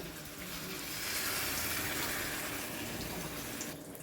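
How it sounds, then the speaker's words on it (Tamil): Water from a masala vessel is poured into a cooking pot for a chicken curry, a soft, steady gushing splash lasting a few seconds at low volume. "நான் வந்து இந்த மசாலா ஏத்தனத்துலேயே இருக்கிற தண்ணியே ஊற்றிக்கிறேன்."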